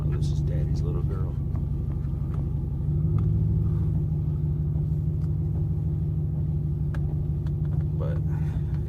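Close, steady idle rumble from a Ford Mustang GT with SSS Terminators exhaust, deep and even, shifting slightly in tone partway through while a person talks over it.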